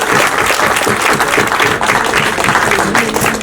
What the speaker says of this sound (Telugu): గట్టిగా ఒకసారి చప్పట్లు పెడితే బాగుంటుంది